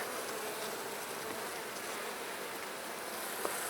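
A dense, steady buzz of many honey bees swarming close by during a hive inspection of honey supers, a continuous droning hum with no voices.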